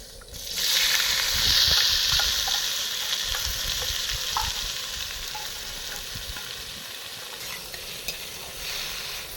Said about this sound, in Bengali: তেল গরম হয়েছে আমরা আগের থেকে কাঁঠালের বীজ আর ওলের ডাটা সেদ্ধ করে রেখেছিলাম